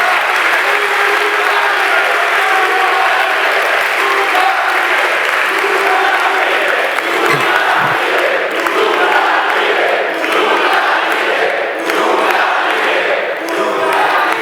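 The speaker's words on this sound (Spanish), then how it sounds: "Y yo pido un aplauso para Lula, ejemplo de esa persecución." A crowd at a political speech applauds for Lula: dense, sustained clapping at full volume throughout, with some shouts mixed into the crowd noise.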